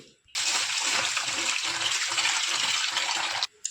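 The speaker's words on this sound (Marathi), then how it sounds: "तांदूळ घेतलेले आहेत आता तांदूळ धुवून घेऊत" Rice washed in a steady stream of running water while cooking for a puran poli meal, a continuous close splashing gush lasting about three seconds with no talk.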